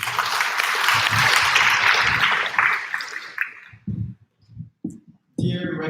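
Conference audience applause at a university law school event, a full burst of clapping for over three seconds that then drops away, followed by scattered faint sounds and a speaker starting to talk.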